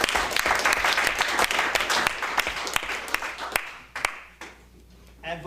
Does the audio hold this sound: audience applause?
yes